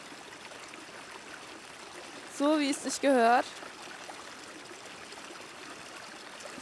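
A babbling mountain stream rushes in a steady, moderately faint wash of water noise, interrupted midway by a short burst of a man's speech.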